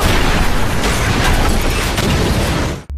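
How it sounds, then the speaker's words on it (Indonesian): Bomb blast beneath a podium in the 2008 thriller film Vantage Point: a loud, sustained roaring explosion filling the whole clip with deep rumbling and crackling debris, then cutting off abruptly near the end. "Agent Ron tewas karena ledakan tersebut."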